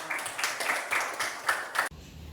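Schoolchildren clap together in a classroom for a classmate, a short burst of rhythmic group clapping at close range that stops abruptly.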